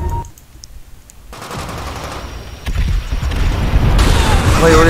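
Gunfire in Call of Duty: World at War rises out of a quiet lull into a dense, sustained rattle of rapid shots and booms that grows louder toward the end.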